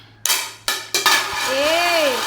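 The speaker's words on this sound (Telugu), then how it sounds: "ఏంటా సౌండ్? అదా ప్లేట్ పడింది" A plate falling in a kitchen: three sharp, clattering metallic impacts in quick succession, followed by a ringing, wobbling spin as the plate settles, close and loud.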